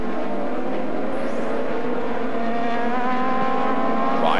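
IndyCar race cars at the Edmonton Indy street race in 2008 roar loudly and steadily, engine tones shifting in pitch as the cars brake and accelerate through a turn, with no talk over them.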